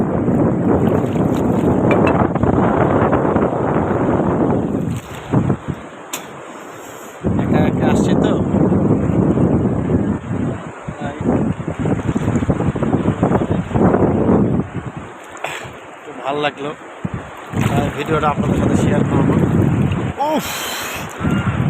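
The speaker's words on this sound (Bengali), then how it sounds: "এই যে ঢেউ আইতেছে, ঢেউ আসলে দেখেন মোবাইল যায়।" Rough sea waves roll in on the shore under strong buffeting wind that roars across the microphone in long loud surges, dropping out briefly between gusts, while someone talks over the noise.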